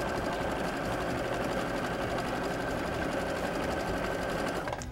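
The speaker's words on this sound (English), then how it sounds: "we're going to move to the sewing machine, and I'm going to sew the other side" A sewing machine runs steadily, its needle chattering in a fast, even stitching rhythm for the whole stretch, close and fairly loud.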